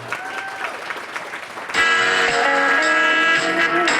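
Gala audience applauding for the Salvation Army, a short burst of clapping that gives way to loud music with a steady beat joining in.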